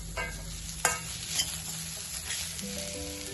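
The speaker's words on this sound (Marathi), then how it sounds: "अशा रंगावरती आपण छान हा कांदा भाजून घेणार आहोत" Chopped onion roasting in a pan for homemade misal, with a steady close sizzle and a couple of sharp spatula scrapes early on; no voices.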